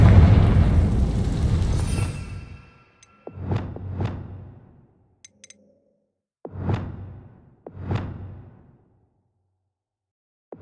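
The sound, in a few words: Confringo fire spell cast in the video game Hogwarts Legacy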